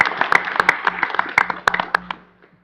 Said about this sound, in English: I want to thank him as well and give him a round of applause